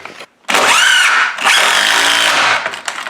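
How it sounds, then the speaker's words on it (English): Impact driver running screws into wooden wall studs while framing a bathroom, a loud sustained whirring and hammering burst of about two seconds, briefly dipping mid-run, with a short pause and quiet handling noise at the start. "So, I gotta run these screws in."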